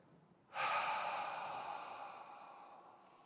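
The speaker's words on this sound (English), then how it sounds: "Take a nice deep breath." A slow, deep breath drawn in and let out during a guided relaxation, starting abruptly and fading gradually over a few seconds, close and alone without any talk.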